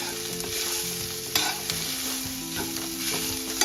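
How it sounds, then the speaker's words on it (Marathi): Kardai (safflower) greens are stirred and sautéed in a pan with a loud, continuous sizzle, broken by scraping and tapping from the spatula and a faint tonal hum underneath. "आपण यामध्ये अगदी व्यवस्थित अशी भाजी परतवून घ्यायची"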